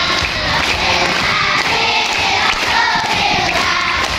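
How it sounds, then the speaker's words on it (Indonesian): Children clapping their hands along to a Maulid song at an elementary school celebration, a dense, steady wash of clapping mixed with crowd noise throughout. "Lebih keras tepukannya."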